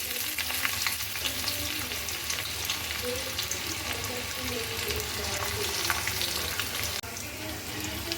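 Chopped onion frying in a pan for paneer burji, a loud continuous sizzle and crackle with occasional stirring scrapes, close and steady throughout with no talking.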